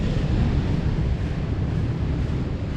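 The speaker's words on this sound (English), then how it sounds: "these waves. They are huge." Big ocean waves roar onto a beach in Aberdeen, Scotland, a dense, steady wash of surf with wind noise, continuous and fairly loud with no talking.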